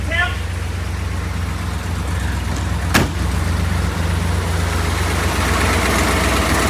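A 1956 Ford Thunderbird engine idling while it warms up, a steady low rumble held throughout, with one brief sharp clack partway through.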